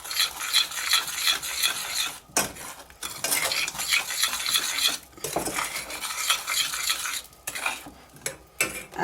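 A spoon stirs lemon juice into a thick lemon meringue pie filling in a pan, with repeated close scraping and clinking strokes in bursts broken by brief pauses.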